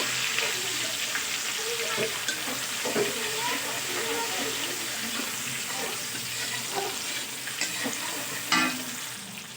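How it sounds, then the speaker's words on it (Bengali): Chopped tomato stirred into browned onions in a pan, a steady sizzle with repeated spatula scrapes and clinks close by. "টমেটোকে পেঁয়াজের সঙ্গে আরেকটু নাড়াচাড়া করে নেব"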